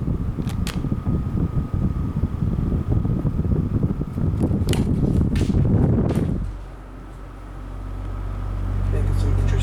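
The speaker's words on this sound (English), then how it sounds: "So let's start this thing off on low." A 1983 Lasko/Galaxy 12-inch oscillating table fan, model 2150, hums steadily on low speed with a soft whirring drone, joined by faint rattles and a brief dip before the motor noise swells again.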